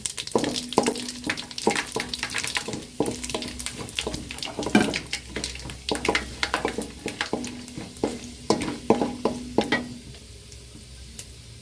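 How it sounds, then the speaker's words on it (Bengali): Whole cumin and fenugreek seeds crackle in hot oil, heard as a close sizzle broken by rapid, repeated stirring clicks and scrapes that stop near the end, leaving a fainter hiss. "দিয়ে দিচ্ছি গোটা জিরা দিয়ে দিচ্ছি সামান্য পরিমাণ মেথি"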